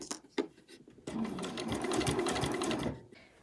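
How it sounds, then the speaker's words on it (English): A sewing machine with blue thread stitches along the edge of fabric binding on an overlocker cover. A few short bursts come first, then a steady run of close, loud stitching that slows and stops near the end. "I'm just going to stitch along the edge there."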